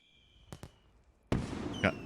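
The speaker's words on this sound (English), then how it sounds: "Fireworks galore." Fireworks in the Candleman video game finale: two quick pops, then a louder burst that crackles on, with another bang near the end, clear and close with no talk.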